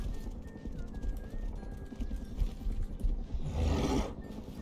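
A horse in the survival video game Rust clip-clops at close range, steady hoofbeats with a brief snort or whinny near the end, set against ambient game noise.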